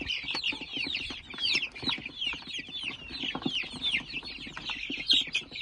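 Chickens cluck busily in a coop, a dense overlapping chorus of short clucks and calls, steady and fairly close with no voices.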